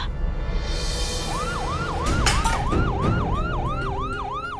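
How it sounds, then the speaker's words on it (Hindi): A wailing emergency siren rises and falls in a steady repeating cycle of about half-second sweeps, fairly loud over a rumbling background, with a brief burst of broadband noise partway through. "वो अचानक से सायरन की आवाज सुनी तो हम घबरा गए"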